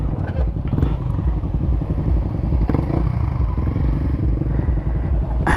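A motorcycle on a charity ride in Dangcagan, its engine droning loud and close throughout, with clattering and thumps from the road mixed in and faint voices beneath.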